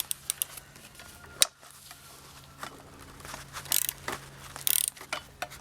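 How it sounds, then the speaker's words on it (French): A ratchet unscrewing shock absorber bolts on a car's suspension strut, heard as quiet bursts of quick metallic clicks at irregular intervals over a low, steady background hum. "Ensuite, je vais venir dévisser les deux autres alternativement."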